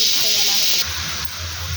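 Chopped onions, with green chilies and curry leaves, hit hot oil in a kadai and give a loud, steady hiss and sizzle that eases slightly partway through.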